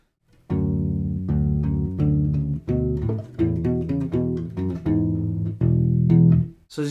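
A U-Bass plays measures 10 and 11 of a main theme at a slightly slowed tempo: a run of distinct, rounded plucked notes, clear and close with no accompaniment.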